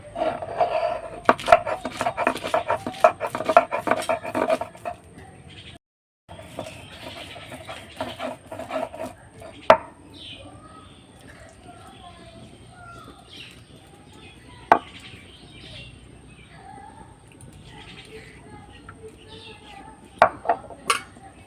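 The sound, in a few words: cashews being ground into paste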